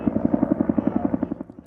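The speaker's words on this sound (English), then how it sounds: "including 17 helicopters that repeatedly make the round-trip flight from the pond at Incident Command to the east and west sides of the fire" Firefighting helicopter flying water-drop runs at the Blue Cut wildfire, a loud, close rhythmic rotor thump of about a dozen fast beats, steady then slightly fading.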